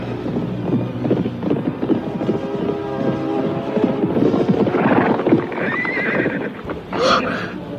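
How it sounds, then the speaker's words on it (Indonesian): Hooves clop and slow to a halt, and then a horse whinnies loudly nearby. "Ada suara kuda berhenti di depan pondokku."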